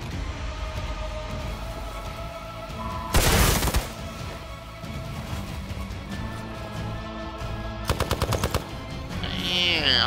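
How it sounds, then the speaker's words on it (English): Automatic gunfire in the video game Marvel's Midnight Suns, with two loud rapid-fire bursts cutting through a steady bed of game music and ambience. "how dare you shoot him while he's down?"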